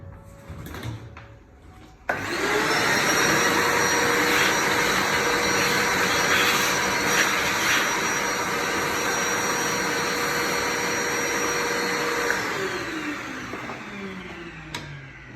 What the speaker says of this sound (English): So I'll start by vacuuming and then give everything a brush.